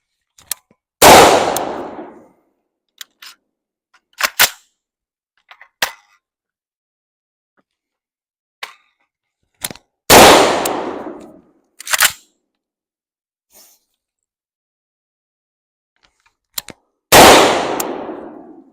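Rifle fired with a micro muzzle brake and the suppressor removed: several sharp, loud cracks with ringing decays, spaced irregularly across the stretch with quiet gaps between, plus a few smaller clicks.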